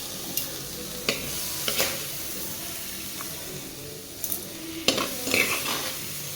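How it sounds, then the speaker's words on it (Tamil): A soft, steady sizzle runs throughout as pirandai cooks gently in a pan on a low flame for chutney, with occasional clinks and scrapes of a stirring spoon. "நான் சிம்மில் வச்சு தான் வந்து வதக்கிக்கிட்டு இருக்கேன்"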